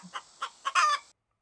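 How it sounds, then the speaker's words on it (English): A hen gives a short series of clucks rising into a louder drawn-out squawk, close and clear, then silence. "the hen laid an egg on the fireside rug and flapped round the room"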